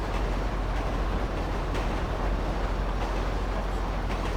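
A train in the GTA 5 video game gives off a steady, continuous rumble and rolling noise that holds evenly throughout, with no talking.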